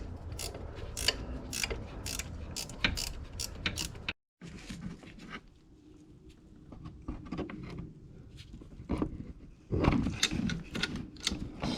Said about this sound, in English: ratcheting away.